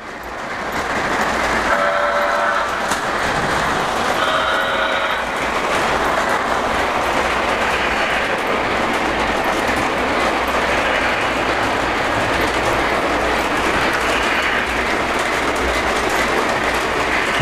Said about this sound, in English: we've got all three trains running on the layout right now